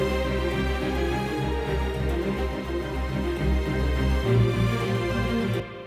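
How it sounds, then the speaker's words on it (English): An orchestral trailer mix with a Vivid Staccato strings layer from the LCO Strings library playing short, driving string notes over a dense, loud, sustained backing that stops abruptly at the end. "You can see here that I'm using the LCO Strings Vivid Staccato."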